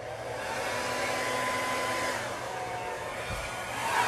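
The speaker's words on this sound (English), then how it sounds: "I'm going to blow the paint, white paint on this side up and over the colors first" A hair dryer blows white paint up and over the colours of a large Dutch pour painting, a loud, steady, close whooshing roar that continues throughout with slight swells.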